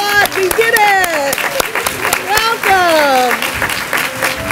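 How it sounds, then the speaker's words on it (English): An audience at a college honors convocation applauds, giving sustained, crowded clapping, while a voice speaks over it. "Yes, let's applaud."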